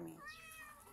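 A pet cat at home gives a single short meow, close and fairly soft.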